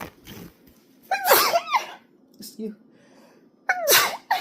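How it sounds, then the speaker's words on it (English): Two loud, close sneezes a couple of seconds apart, each with a sharp breathy burst, separated by a brief quieter moment. "I have to sneeze"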